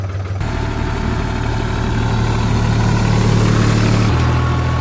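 A truck engine runs steadily at about 1700-1800 RPM, a loud, constant low drone with a dense rumble and no breaks, heard close and alone.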